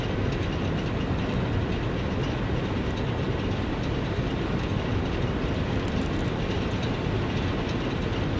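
Trains rolling along in the factory-building game Satisfactory, a steady, dense rumble with faint clickety-clack running continuously and loud throughout, with no other sounds over it.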